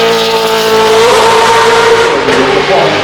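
A Lamborghini Diablo drives past at the Goodwood Festival of Speed, a loud sustained engine note rising slightly in pitch as it passes close by, with crowd noise and a commentator's voice blending underneath.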